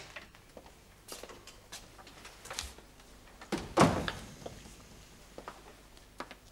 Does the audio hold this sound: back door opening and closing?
yes